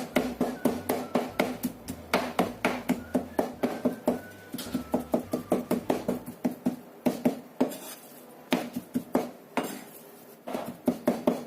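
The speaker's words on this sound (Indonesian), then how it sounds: "Kemudian kita cincang semuanya sampai benar-benar halus." Knife rapidly chopping and finely mincing ingredients on a cutting board, a steady fast stream of sharp close taps with brief pauses, then slower scattered strokes near the end.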